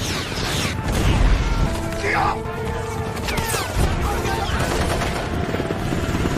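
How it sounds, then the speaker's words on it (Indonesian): A film battle scene fills with rapid bursts of gunfire, crashing blasts and whirring machinery, loud and dense throughout, with voices shouting underneath. "Ketika peluru dan bom saling pajuliwet"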